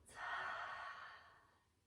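A single slow, airy exhale during a children's yoga bird-breathing exercise, soft and close, swelling quickly then trailing off gradually over about two seconds, with no talk.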